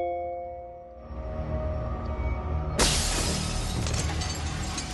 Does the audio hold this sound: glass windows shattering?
yes